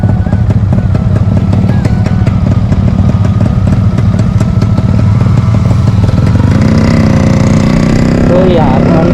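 A Yamaha RX 100 motorcycle, in somewhat weak condition, runs loud and close during a short ride, its two-stroke engine putting out a rapid buzzing beat that shifts pitch near the end, with voices over it.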